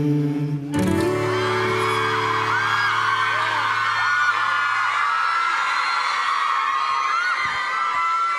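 Audience cheering, whooping and screaming at a live show featuring four young male performers, a loud continuous roar after a musical note ends, sustained and close.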